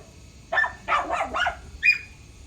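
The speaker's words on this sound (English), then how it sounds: "It's my dog." A dog barks four times nearby, loud and sharp yips, three in quick succession and a final one after a short pause, in a quiet indoor space.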